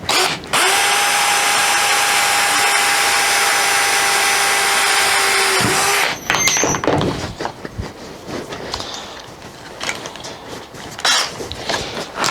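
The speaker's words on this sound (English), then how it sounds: "We're going to go ahead and drill for a carriage bolt first" A power drill bores holes for a carriage bolt while building access panels for a Zenith 701 aircraft, running loud and steady for about six seconds before stopping, followed by quieter clanks and handling noises.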